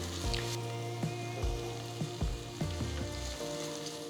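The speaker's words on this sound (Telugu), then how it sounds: "ఒక టీ స్పూన్ ఫ్రెష్గా రుబ్బుకున్న అల్లం వెల్లుల్లి పేస్ట్ వేసి పచ్చి వాసన పోయేంత వరకు వేపుకోవాలి" Fresh ginger garlic paste frying in a pan for coconut milk rice, with a steady close sizzle and crackle broken by a few soft stirring knocks, and no talk.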